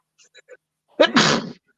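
A single sharp sneeze up close, a quick intake followed by a loud burst, after a few faint soft sounds.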